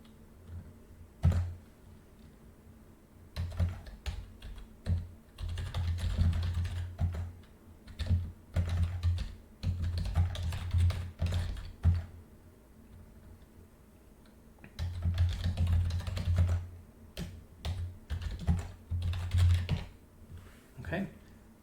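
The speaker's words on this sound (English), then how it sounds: "or we can just type in a request." Typing on a computer keyboard, bursts of quick close key clicks with short pauses between runs, steady and moderately loud, alone without talk.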